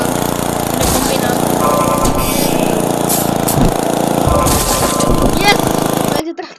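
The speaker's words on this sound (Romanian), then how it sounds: "Yes! Merge tractorul." A combine harvester tractor engine in the Happy Wheels game runs with a loud, continuous mechanical rattle and drone, steady for about six seconds with brief noisy bursts, then stops suddenly.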